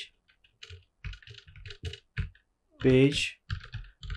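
Code being typed on a computer keyboard gives scattered, irregular key clicks in short bursts, with someone speaking briefly partway through.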